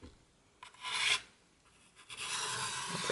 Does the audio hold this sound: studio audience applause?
no